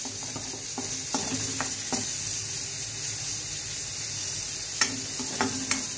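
Cauliflower sautéing in a pan, sizzling steadily up close, with repeated clicks and scrapes from stirring that come in small clusters over the constant hiss.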